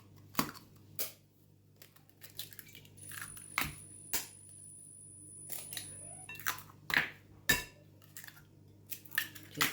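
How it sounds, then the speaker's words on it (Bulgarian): Four eggs cracked for a Bulgarian banitsa filling in a kitchen: sharp separate cracks and taps of shell against a bowl, with small clinks and wet squishes between them, close and quiet, with no talk. "Сега ще се разбие 4 яйца."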